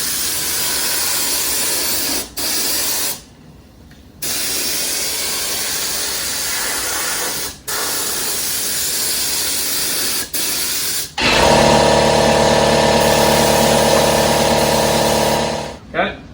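Spray glue hisses onto a 1968 Firebird vinyl top, loud continuous spraying broken by short pauses, ending in a longer, more tonal burst of spray.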